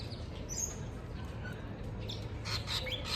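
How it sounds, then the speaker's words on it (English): A small bird in a cage gives a few thin chirps and squawks, one early and a quick cluster near the end, faint against a low ambient hum. "oh, there's a little bird in his cage."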